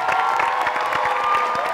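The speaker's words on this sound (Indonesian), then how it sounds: "Tepuk tangan buat Nando dulu dong" A crowd claps steadily in a continuous wash of applause, with some faint cheering mixed in throughout.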